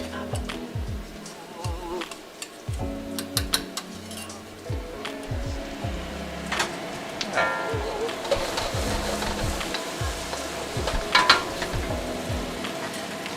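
Tempura Beijing beef sizzles and crackles steadily in a hot wok, with occasional clinks and scrapes of stirring, close by and fairly loud.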